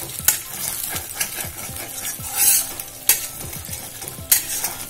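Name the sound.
beaten egg frying in oil in a pan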